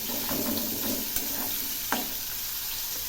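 Fish fries in hot oil in a kadai while being stirred, a continuous crackling sizzle with two sharp utensil knocks against the pan, close and with no talk.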